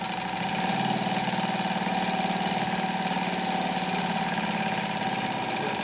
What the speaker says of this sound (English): we're going to be sewing along using our reverse